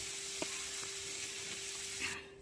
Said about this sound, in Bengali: কড়াইয়ে তেল গরম করে শুকনো লঙ্কা, কাঁচা লঙ্কা, তেজপাতা, ফুলকপি, আলু দিয়ে ভেজে নিচ্ছি